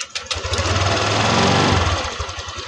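A Honda Click 125 scooter with an erratic, misfiring idle runs close by with a loud, rough putter, its rapid pulsing engine rising into a steadier drone before settling back into uneven chugging.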